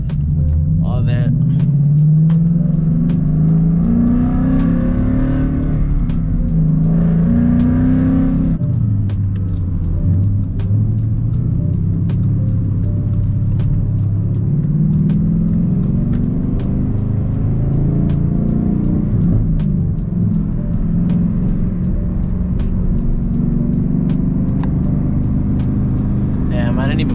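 A Ford Mustang engine rumbles steadily while driving, with the pitch rising and falling as it accelerates and eases off; a loud, continuous drone with a voice talking over it at times.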